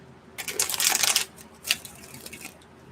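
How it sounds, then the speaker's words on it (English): A short riffle of playing cards being shuffled up close, a quick flurry of crisp flicks followed by a brief second burst and light tapping. "I won't do tons of shuffles"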